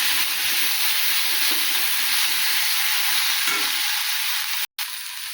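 Tomato fries and is stirred in a pan of vegetable palya, giving a loud, continuous sizzling hiss close up, with a brief cutoff near the end.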